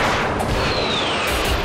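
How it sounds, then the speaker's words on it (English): A missile launch in a naval shipboard training simulation produces a sustained, loud rushing roar throughout, with a faint descending whistle sweeping across the middle. No voices are heard. "Missile release, bearing 270."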